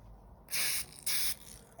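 A can of homemade snow spray releases two short, close hissing bursts in quick succession, separated by a brief pause.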